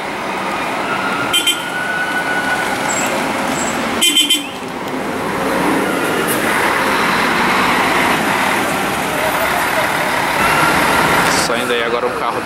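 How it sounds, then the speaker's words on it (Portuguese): A Line Tour coach bus on the São Paulo–Paraty service pulls out of the busy Tietê bus terminal, its engine rumbling under loud traffic noise, with a few short horn toots. "Saindo agora aí, galera, um carro da Line Tour, na linha São Paulo-Paraty, a serviço da Reunidas Paulista"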